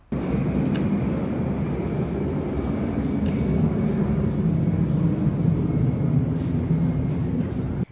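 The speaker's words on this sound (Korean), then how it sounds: "일이나 공부를 하다가 이 비행기 소리가 좀 되게 크게 들리거든요." Airplane passing over Nimmanhaemin in Chiang Mai, a continuous low rumbling roar that holds steady and loud across the stretch, with faint higher ticks above it.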